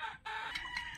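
A chicken clucks in quick, close, clear bursts for a moment, with no other sounds.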